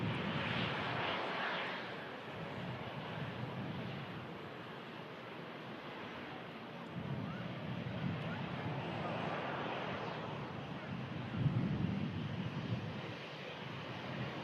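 easyJet Airbus A319, about fifteen years old, moving at an airport: a broad, steady jet roar that swells and fades at a distance, with wind noise over the microphone throughout.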